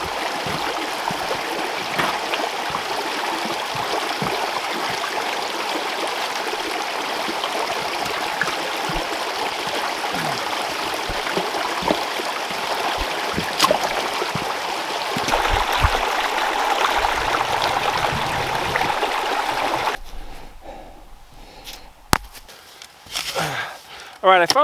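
A creek flows steadily in the snowy Sierra Nevada, a continuous close rushing wash of water with some footsteps and crunching movement, before it drops away into quieter handling noise.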